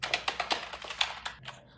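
Keys tapped on a new Redgear MT01 RGB mechanical keyboard during an unboxing, a quick irregular run of about a dozen crisp clicky presses up close, no talking.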